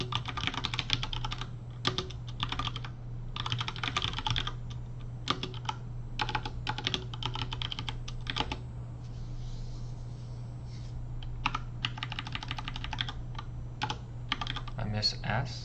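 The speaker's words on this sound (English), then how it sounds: "Let's open up terminal and type in the command." Someone types a command on a computer keyboard into a terminal, giving bursts of rapid, close key clicks with short pauses between them over a steady low hum.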